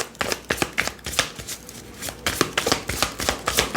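A deck of oracle cards is shuffled by hand, a quick series of crisp papery riffles and slaps repeating in short, uneven bursts, close and clear with no talking.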